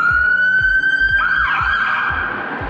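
Emergency vehicle siren, a fire truck or ambulance, wailing loud and steady with a sweeping tone that shifts pitch midway, accompanied by low rhythmic thumping underneath, with no talk.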